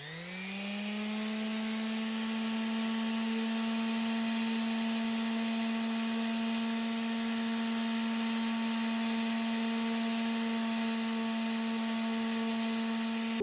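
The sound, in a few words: sanding off excess wood filler on a side table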